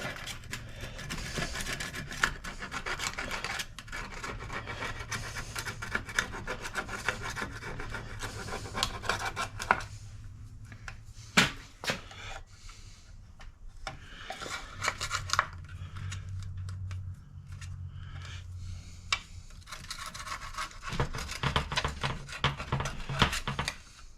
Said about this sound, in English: Just gonna use a scraper.